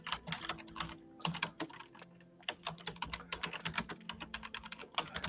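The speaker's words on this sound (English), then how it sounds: "He writes that down on his noisy keyboard." Typing on a noisy keyboard, rapid irregular clacking keystrokes in bursts, close and crisp, with short pauses in between and no voices.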